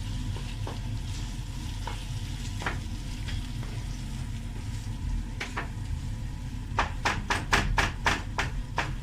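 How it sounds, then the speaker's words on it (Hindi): Mutton brain (maghaz) masala being stirred and pressed in a pan, a steady sizzle of frying underneath scattered scrapes and taps that turn into a quick run of sharp, close clacks of the spoon near the end, with no talk. "अच्छी तरह से ऐसे प्रेस कर करके मगज़ को मिक्सअप कर ले"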